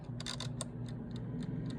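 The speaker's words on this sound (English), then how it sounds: "let me just turn the timer here. Okay, this is the timer." An air fryer's mechanical timer dial ticking, a faint regular run of light clicks over a low steady hum, close and quiet with no talk.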